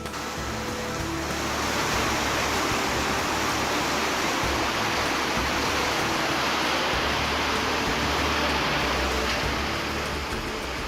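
Heavy drain water rushing through an open nala behind a mosque in Hyderabad's Makkah Colony after heavy rain, a steady loud broadband roar that continues without a break and with no voices.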